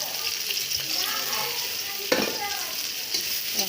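Garlic and bay leaves sizzle in hot oil in a pan, a bright continuous hiss that lasts throughout, with one clear stir or scrape of the utensil partway through and no speech.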